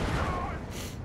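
Steady battlefield gunfire in the WWII strategy game Steel Division 2, a dense rumble of shots and distant artillery across the whole second, sitting under a voice talking.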